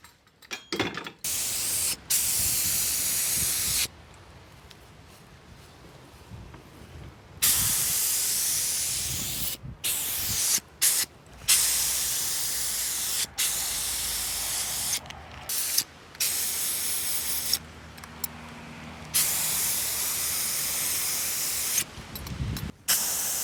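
A cheap $20 Harbor Freight spray gun sprays paint mixed with hardener and reducer in a loud, close, steady hiss, broken into repeated bursts of several seconds with brief pauses between trigger pulls.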